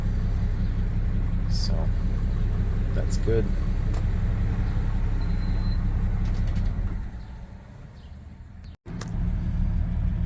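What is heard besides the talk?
1958 Plymouth Plaza engine idling in drive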